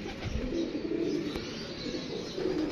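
Soft, low pigeon cooing repeats steadily over a continuous background murmur, with no voices present.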